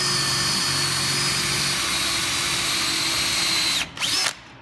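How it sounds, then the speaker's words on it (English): A power drill bores a hole with a sheet metal bit during a wood turning session. It whines steadily and loudly close to the mic for about four seconds, then briefly dips and surges before stopping. "drill this out a little bit"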